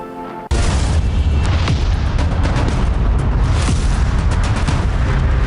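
A sudden loud burst gives way to continuous crackling and booming of New Year 2021 fireworks over landmark buildings, dense and sustained.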